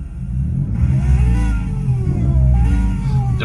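Racecar engine revving sound played from a phone app through a car's Bluetooth audio, a steady loud drone with rising and falling pitch as the revs climb toward a red line, alone without talk.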